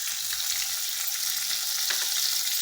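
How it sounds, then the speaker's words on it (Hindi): Chopped tomatoes hitting hot oil with mashed brinjal for baigan ka bharta, a loud steady hiss of frying and sizzling with faint stirring, no talking. "now I will put the chopped tomatoes in"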